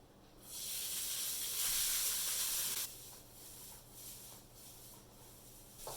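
Rice hits hot bacon grease in a pan and sizzles with a loud hiss that swells for a couple of seconds, then settles into a quieter steady crackle, close up with no talk.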